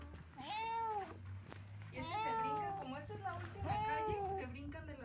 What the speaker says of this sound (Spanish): que no haya corrido este gatito corrobora lo que sus maullidos indican